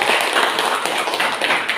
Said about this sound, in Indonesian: Tepuk tangan dulu sekali lagi.